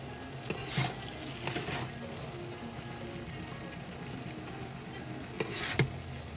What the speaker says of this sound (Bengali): এই যে ভালোভাবে মিশিয়ে নিচ্ছে নুডলসের সাথে সবজিগুলো।